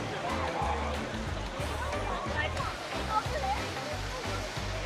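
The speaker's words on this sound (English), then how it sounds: "There's a water slide that comes out right there." Water splashes steadily from a pool water slide at Disney's Coronado Springs Resort, a continuous rushing spill heard close and fairly loud, with low thumping underneath.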